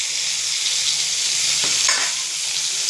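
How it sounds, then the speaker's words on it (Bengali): Pointed gourd (potol) frying in oil previously used to fry fish, for a home-style rohu fish curry: a steady, close hiss of sizzling oil runs throughout, with a brief stir in the middle and no talking. "মাছ ভাজার তেলে আমি পটলগুলো ভেজে নেব।"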